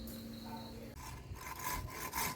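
A small hand saw cutting through wood, with rough rasping strokes that start up partway through and repeat in a quick, uneven rhythm, fairly close and alone.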